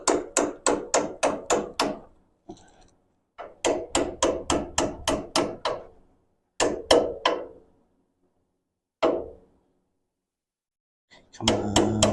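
A hammer taps spacers or washers into place on a shortened VW pan buggy, with quick runs of sharp metallic blows in bursts separated by pauses, close and clear.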